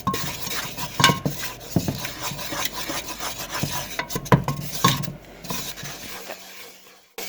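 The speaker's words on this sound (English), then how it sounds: "You want to use a wooden spoon. You want to make the flour into a paste, but not too thick." A wooden spoon stirs flour into a roux paste in a pot, giving repeated scraping and rubbing strokes with occasional knocks against the pot, close and fairly loud, fading near the end, with no talking.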